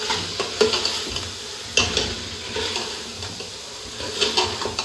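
A spoon stirs bitter gourd frying in oil in a pan, with a steady sizzle under repeated scraping clinks of metal on the pan, close and fairly loud, and no voices.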